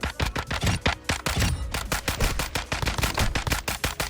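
Rapid automatic rifle fire in Modern Warfare 2, a dense rattling stream of close, loud shots in quick bursts with brief gaps, no talking over it.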